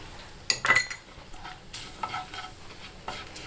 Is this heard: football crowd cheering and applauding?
no